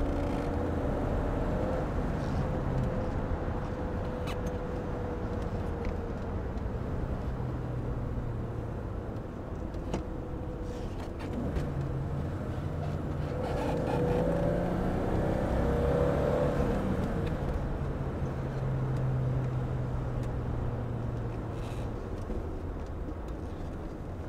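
A 1986 BMW E30 driving on twisty back roads, its engine a steady hum heard from inside the car that rises and falls gently as it accelerates through the bends, with continuous road noise underneath.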